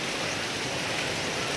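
Heavy rain falls steadily, a dense, even hiss of water pouring down without pause, loud and close, with no voices.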